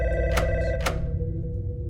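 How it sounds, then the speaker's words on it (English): A telephone rings in a video game with two bright electronic trills in quick succession over a steady low background hum, and no voices. "then the phone rings."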